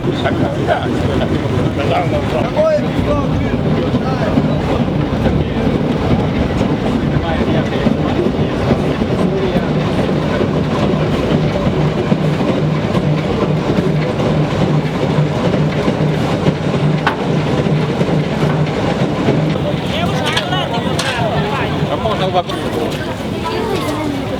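A train on the Borzhava narrow-gauge railway rumbles along continuously with rhythmic wheel clatter and carriage rattle, loud and close, while people talk over it.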